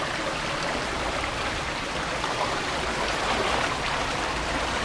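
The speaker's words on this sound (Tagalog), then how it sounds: "Ang lakas ng agos ng tubig mga kabady." Strong river current fed from the mountains near Tacloban, Batangas City, rushing as a steady, close, broadband roar of flowing water with no voices.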